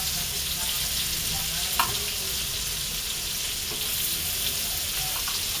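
Shrimp frying until crisp in hot oil for Old Dhaka-style tilli bhaja, a steady dense sizzle running close and continuous with faint clinks of stirring.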